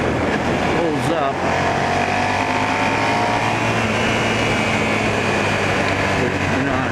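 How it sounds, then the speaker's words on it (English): Suzuki SV650 V-twin motorcycle heard while riding: a constant engine drone blended with heavy wind rush, loud and unbroken throughout, with faint shifts in pitch as the engine speed changes. "I really like the sound of a V-twin."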